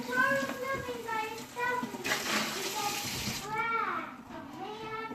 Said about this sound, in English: And then I just rinse it out in the water really, really good